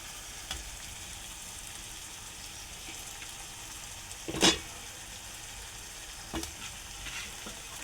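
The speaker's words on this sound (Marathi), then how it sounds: "आता आपण ह्याच्यामध्ये ही भरली वांगी टाकूया" Stuffed eggplants frying in slightly scorched oil in a pan, giving a steady low sizzle throughout with a sharp burst of crackling near the middle and a few smaller pops later.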